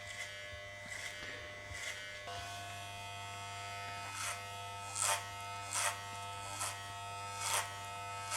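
Electric hair clippers with a 2 guard buzz steadily while cutting hair on the sides and back of a self-given haircut. A few louder strokes rise through the constant motor whine near the listener, with no talking.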